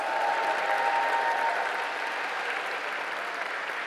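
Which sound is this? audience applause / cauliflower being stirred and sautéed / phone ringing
audience applause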